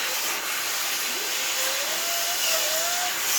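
A Data Vac electric duster blows out the inside of a PC with a loud, steady, high-pitched whine and hiss of rushing air that holds throughout.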